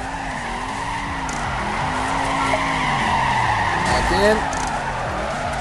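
A car skids hard under the handbrake in the mobile racing game Torque Burnout, a loud continuous tire screech with rising and falling squeals while someone speaks briefly over it.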